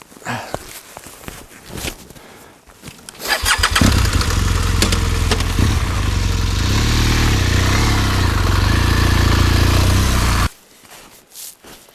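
An off-road motorcycle is kicked or cranked over amid scuffing footsteps, then fires up at about four seconds into a loud, steady, close engine run with slight revving for several seconds before cutting off, in a snowy outdoor setting.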